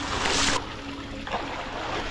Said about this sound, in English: Little fountain on the side of the waterfall.